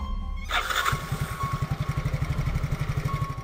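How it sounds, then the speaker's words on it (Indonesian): A motorcycle engine starts, then settles into a steady, low, pulsing putter as the bike rolls slowly, close and fairly loud, with no speech. "Aku lajukan motor perlahan sambil memperhatikan dengan seksama lokasi di sekitar."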